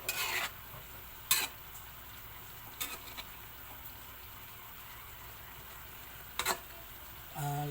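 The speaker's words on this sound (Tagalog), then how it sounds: "Haluin lang natin." Quiet bubbling simmer of a boiling pot of water with a few sharp clinks and scrapes of a stirring utensil against the pot, spaced irregularly.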